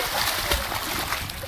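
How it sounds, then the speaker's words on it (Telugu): Close splashing and sloshing water as a person swims at Pinnapuram waterfall in Nandyal, Andhra Pradesh, a short burst of irregular splashes over a continuous rush of falling water. "అన్న అయితే ఇంకా ఈత కొడుతున్నాడు."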